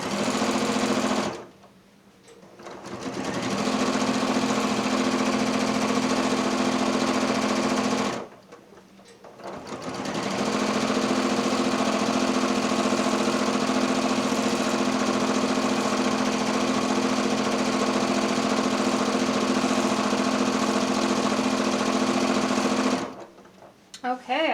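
A Janome 6700P sewing machine stitches steadily at high speed while free motion quilting a spiderweb design, a continuous loud whirring hum that stops briefly twice and then resumes.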